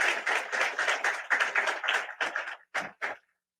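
Applause from a gathering of young people, heard as a short run of close, crisp claps that thin into a few separate claps before stopping into silence.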